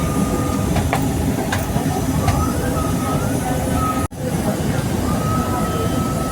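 Loud, continuous rumble of a moving MRT metro train heard from inside a crowded car, with rattling, a faint squeal, and a brief dropout midway.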